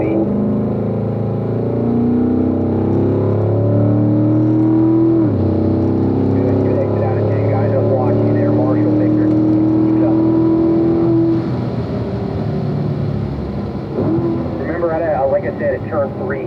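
A Corvette at speed on Spring Mountain's East track, its engine note climbing and falling through gear changes and a corner, loud and steady from inside the car, while an instructor speaks over the engine.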